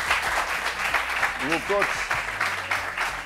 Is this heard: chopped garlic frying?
no